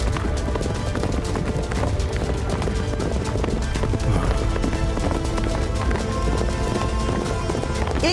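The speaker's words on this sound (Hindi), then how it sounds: "अरे ये घोड़े कहां से आ गए?" Cartoon horses gallop in a busy, dense rush of hoofbeats, loud and continuous, mixed with music and effects for the full stretch with no talk.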